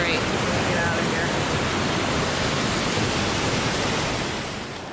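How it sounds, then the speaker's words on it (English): River cascades of a small waterfall near a wooded bank, a loud, steady broadband rush of falling water that fills the whole stretch and fades slightly at the end. "More cascades."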